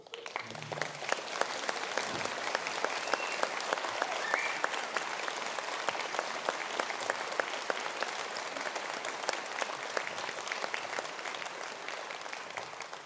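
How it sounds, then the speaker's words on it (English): Sustained round of applause from a seated audience at a university graduation conferring ceremony, steady dense clapping that fills the hall without talk. "to please stand for a round of applause."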